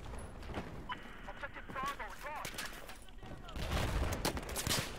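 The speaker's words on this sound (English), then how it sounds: "I'm being shot from over there" Gunfire crackles in the video game Battlefield 4, with scattered bursts and rapid shots under a player's excited talking, growing into denser, louder firing toward the end.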